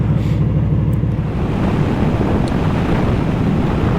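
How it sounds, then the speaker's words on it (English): Steady, heavy wind roar buffets the microphone throughout on a Honda VFR800F motorcycle ride in Somerset, a dense low rumble with no pauses. "I'm not sure if you can hear me because it is quite windy."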